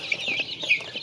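A chicken eating feed, with soft repeated clucks and small pecking taps close by, faint and brief, with no talk.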